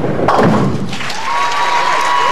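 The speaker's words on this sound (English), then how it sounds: "Picking up the spare." A bowling ball crashes into the pins for a spare at a 1996 team tournament in Tacoma, Washington, with a sharp clatter followed by a sustained ringing tone and faint arena ambience.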